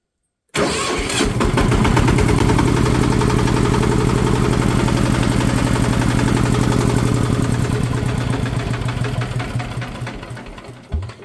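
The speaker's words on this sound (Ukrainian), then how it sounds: "А зараз як стартером. Трошечки додаємо газу і без декомпресометра." A motor tractor engine cranks on its electric starter without the decompressor and catches almost at once, settling into a loud, steady chugging run that slowly eases off near the end.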